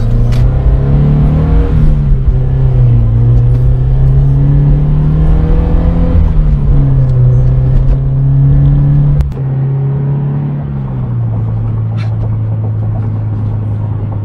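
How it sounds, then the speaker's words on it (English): A Subaru BRZ fitted with coilovers accelerates from inside the cabin, its engine drone rising and shifting in pitch through gear changes, loud and continuous, with a few faint clicks and no talking. "But I'll do a quick acceleration, and we'll see how this feels."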